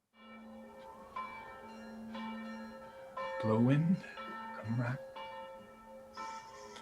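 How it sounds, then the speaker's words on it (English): A castle alarm bell tolls repeatedly in a Macbeth stage adaptation, ringing tones sustaining and overlapping while someone speaks loudly over them. "Ring the alarm bell!"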